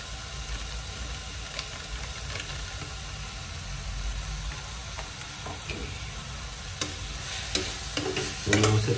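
Egg masala frying in an onion-tomato paste in a home kitchen, with a steady low sizzle and hiss under occasional scraping stirs, growing a little louder with sharper clinks near the end.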